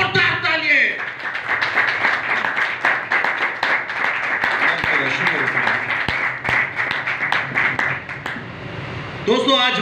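Audience applause at a Christian religious gathering, a steady mass of clapping sustained for most of the stretch at a fairly loud level, with a voice speaking at the start and again at the end.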